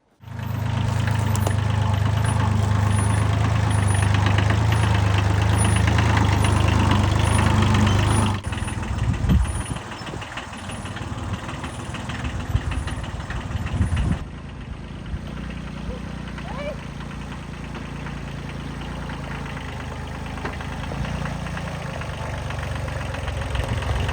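A Kubota B7100 compact tractor on 37-inch tires runs loud and close for several seconds with a steady diesel drone, then cuts to quieter, rougher engine noise mixed with clunks and background movement.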